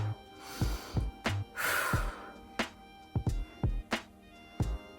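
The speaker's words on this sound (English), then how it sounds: "Inhale and exhale." Heavy breathing during a glute workout: close, loud sharp inhales and exhales come in an uneven rhythm, with snort-like bursts and a couple of longer breathy gasps. No speech.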